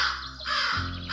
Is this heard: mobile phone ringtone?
no